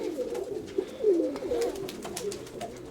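Several soft pigeon coos rise and fall close by inside a pigeon loft, a throaty murmuring that repeats over the whole stretch, with faint rustling behind.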